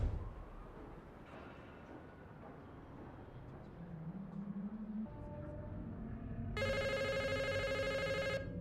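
Phone ringing in the horror film Smile: after quiet, rumbling ambience and a low building tone, an electronic ringtone trills loudly and steadily near the end, heard alone without talk.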